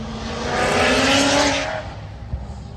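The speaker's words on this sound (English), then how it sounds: "It is a nice Corvette." A Corvette revving, a loud engine surge that swells for about a second and a half and then fades, followed by a brief thump, with no voices.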